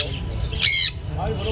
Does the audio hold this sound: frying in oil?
no